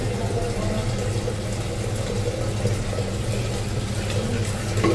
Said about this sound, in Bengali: তো এইবার প্রেশারে একটু ভালো করে ধুয়ে নিচ্ছে জল দিয়ে